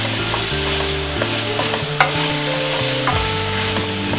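Chopped radish, carrot, brinjal and raw mango with a little dal sautéed in a pan for South Indian mixed-vegetable sambar, with steady stirring scrapes and a soft continuous sizzle close up, no talk.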